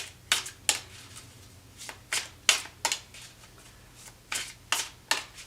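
Tarot cards being shuffled, heard up close and alone as a series of about a dozen crisp, papery riffles and snaps that come in irregular bursts against a quiet background.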